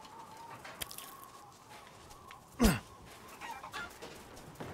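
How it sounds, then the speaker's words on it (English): Chickens cluck faintly in the video game Resident Evil Village, soft scattered clucks amid quiet game ambience, with one sharp louder burst midway. "Chickens!"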